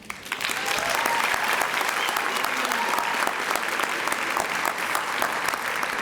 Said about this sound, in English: please step forward to receive your applause